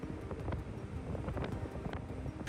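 Wind gusting across a forested hillside in the Mudumalai Tiger Reserve on the road toward Gundlupet, with mist and cold in the air, a steady low rumbling buffet against the microphone that keeps going without a break.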